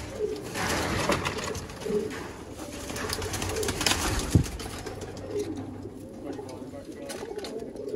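Several blue-tailed pigeons coo softly nearby in repeated low, throaty calls, with someone speaking over them and a brief sharp knock partway through.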